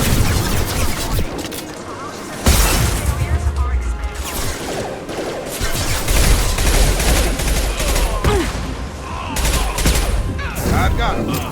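Rapid bursts of gunfire in Mass Effect 2, loud and close, with sharp repeated shots and clattering impacts coming in waves and a heavy blast partway through, while voices speak over the action.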